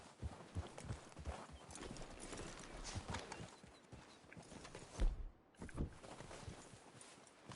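Horses walk in the video game Red Dead Redemption 2, their hooves clip-clopping in a steady, uneven patter, soft and somewhat distant, with a couple of heavier thuds near the end.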